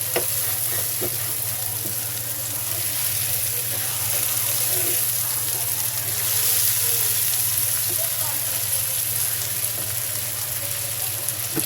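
Prawns sizzle and fry in plenty of hot oil for a coconut prawn dish, giving a steady, loud crackling hiss with occasional stirring scrapes throughout.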